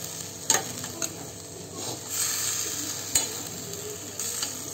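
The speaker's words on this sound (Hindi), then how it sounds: "अब इसे हम 5 मिनट के लिए अपने मसालों में कस के भून लेंगे।" Potatoes and chickpeas for chana chaat roast in spices in a pan, a steady soft sizzle broken by a few sharp scrapes and clinks of the stirring spoon, with no voices.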